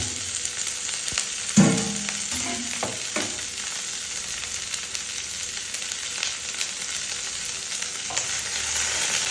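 Onions fry for sambar in a pan with a steady, loud sizzle and a few close stirring scrapes near the start, then the sizzle carries on alone.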